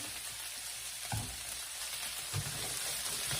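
Brussels sprouts and onions sizzle in olive oil in a pan, a steady close hiss of frying with a couple of soft stirring bumps, no talk.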